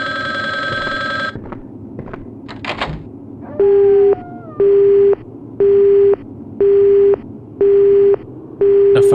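A phone line is hung up in the Resident Evil Survivor video game: a loud steady tone and a few clicks, then six regular busy-signal beeps pulsing at an even, clipped rhythm.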